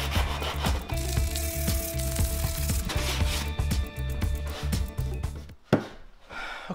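Sandpaper rasps over old paint on a Victorian sash window in steady, close back-and-forth strokes that run continuously before breaking off near the end.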